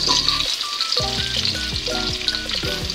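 Tofu sizzles and crackles loudly in a pan with black beans for a pork dish, a constant dense frying hiss close by, with scraping and stirring clatter over the top.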